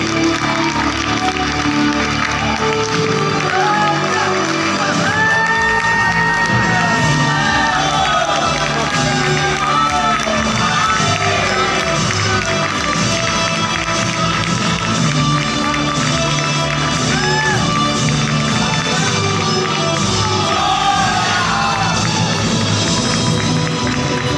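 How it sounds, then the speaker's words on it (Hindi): Dense, continuous crowd applause with scattered cheers and shouts fills an award ceremony for a Marathi-language play that won best production, steady and loud throughout with some voices mixed in. "एक बार जोरदार तालियां हो जाए हल्दी सम्राट के लिए"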